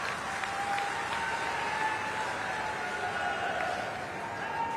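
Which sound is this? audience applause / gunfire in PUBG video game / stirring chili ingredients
audience applause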